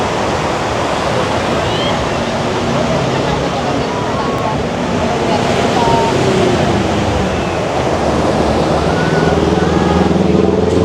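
Sunset surf ambience on Kuta Beach in Bali, a continuous broad wash of breaking waves and hissing foam at steady loudness, with faint scattered beach activity and distant voices in the background.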